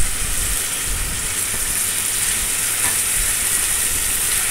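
Onions softening in hot oil in a pan for ridge gourd bhujia, giving a loud, dense, continuous hiss and sizzle heard close up, with no other sounds on top.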